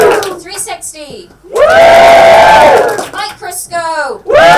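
An audience at a live bioscience-themed musical cheers and screams to vote, a loud sustained roar of voices rising between short sung phrases from the stage.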